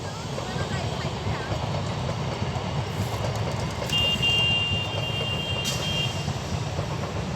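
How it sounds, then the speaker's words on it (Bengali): A train rolls into a railway station in rural Bardhaman, a low continuous rumble with a brief high squeal partway through, moderately loud under general outdoor noise. "ওই তো ট্রেন এসে গেছে রেল স্টেশনে"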